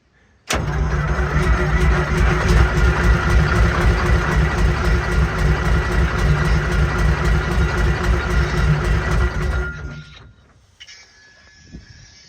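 A large fire engine is cranked over and running loud and steady for about nine seconds, then cuts out abruptly, leaving quieter background noise.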